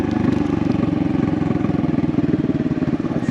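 A Honda Navi motorcycle fitted with a Vance & Hines performance exhaust runs close and loud. It holds a steady, throbbing putter with a fast, even pulse and no voices.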